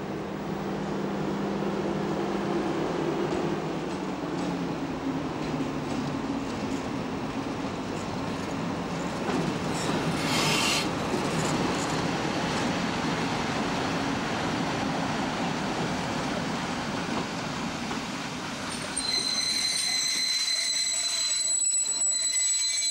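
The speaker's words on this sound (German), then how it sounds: "Langsam schleicht 171-015 in den Bahnhof." A Class 171 electric locomotive, 171-015, rolls slowly into a station on the Rübeland Railway with a steady low rumble and rattle, ending in high-pitched squeals and tones as it comes to a stop.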